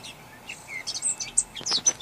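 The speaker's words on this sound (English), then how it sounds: "All the birds are singing." Birds singing on a still, misty day in the Yorkshire Dales, scattered chirps and short calls rising over quiet air, moderately close and growing busier.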